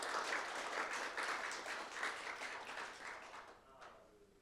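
Audience applause at a privacy forum appointment ceremony, a full, even clapping from the room that holds steady and then tapers away over the last second.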